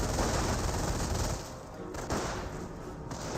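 Sustained machine-gun fire in a Company of Heroes battle, a dense, loud burst of rapid shots that eases after about a second and a half, then continues with ongoing battlefield gunfire.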